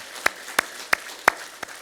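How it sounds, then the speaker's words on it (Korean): A Korean church congregation at a Sunday worship service claps: five crisp, evenly spaced claps ring out about a third of a second apart in a quiet hall, with no voices. "우리 다시 한 번 더 하나님께 영광의 박수 올려드리겠습니다."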